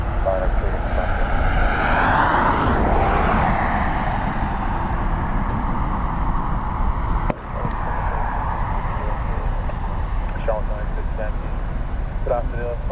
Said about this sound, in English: This is an Aer Lingus regional